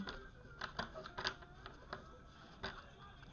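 Soft, irregular papery clicks and flutters of tarot cards being shuffled, close and fairly quiet, with a few sharper snaps scattered through.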